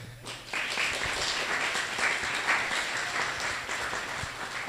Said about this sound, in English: make a round of applause to yourself